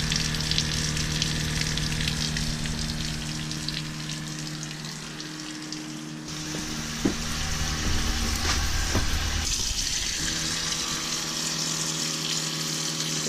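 A small electric water pump primes inside a Sprinter van water system, giving a steady close hum and hiss with watery rushing, a brief click midway, and a shift in tone as it cycles.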